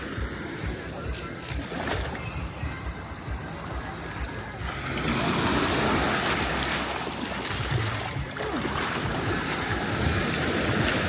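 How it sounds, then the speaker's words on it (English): Ocean waves wash against the beach at Bimini in a steady surging roar, with strong wind buffeting the microphone and the surf growing louder about halfway through. "here's the water a little closer up"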